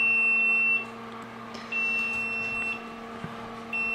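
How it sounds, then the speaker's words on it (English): An egg incubator gives intermittent high electronic beeps with its lid removed, each lasting about a second, over a steady electrical hum with faint background noise. "my incubator will beep when we take the lid off because it's telling me that the eggs are going to get cold"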